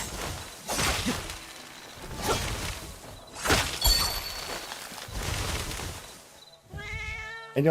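Cat meows from a video game, several short mewing calls spread across the stretch amid game effects and whooshes, with a brighter, tonal meow near the end.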